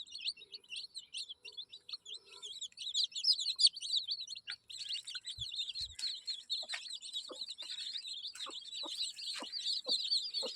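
Desi chicks peep in a constant high-pitched chorus with brief low clucks from the mother hen, close by and otherwise quiet around them.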